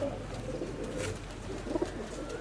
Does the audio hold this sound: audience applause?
no